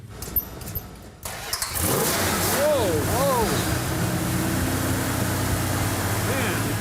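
A one-owner 1968 Dodge Charger R/T cranks over and fires up, settling into a loud, steady, rumbling idle with a couple of blips of revving, heard up close with people talking nearby.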